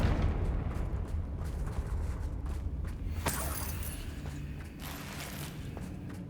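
A Confringo blasting spell bursts in Hogwarts Legacy, one sharp crack about halfway through that rolls into a low rumbling boom over dense, constant game noise. A creaking, mechanical hum runs underneath the whole time.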